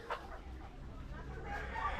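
Pet chickens clucking softly in a backyard coop, a few short faint clucks over low background noise.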